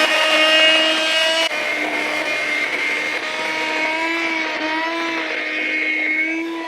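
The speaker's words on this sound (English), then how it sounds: "I'm just going to blend it up with a stick blender" A stick blender whirring through soup, a steady high motor whine with shifting pitch that runs continuously, close and fairly loud, with no talk.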